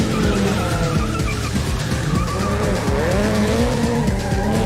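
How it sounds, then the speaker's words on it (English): A one-off gymkhana car spins continuous donuts, its tires squealing loudly and steadily over a roaring, revving engine, close and without pause. "I gotta time not only my donuts, but Scott's donuts and try not to kill the"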